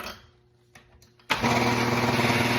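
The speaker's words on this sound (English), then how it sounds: "It's a dosing grinder, so it's either going to dose a single or double shot." An espresso dosing grinder starts up abruptly and runs loudly and steadily while grinding coffee beans for a single shot, following a few quiet clicks and handling sounds.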